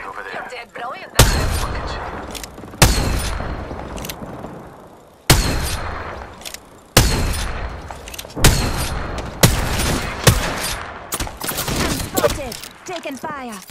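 Heavy gunfire in Apex Legends, a series of loud, sharp shots and bursts spaced irregularly through the stretch, close and dominant, with game sounds between them.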